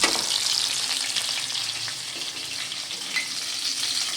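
Hilsa fish fries in hot oil with a constant crisp sizzle and faint popping, close up and steady, with no voices.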